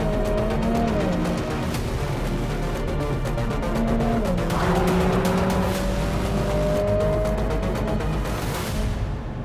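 A Lotus Emira in track mode launches hard and accelerates flat out to about 95 mph, its engine note climbing steadily through the gears with brief dips at each shift, loud and continuous from a close onboard position.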